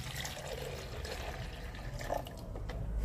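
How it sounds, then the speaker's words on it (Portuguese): Water poured into a coffee maker's reservoir, a steady, faint gurgling splash running throughout without pause, with no talk. "Vamos colocar água aqui"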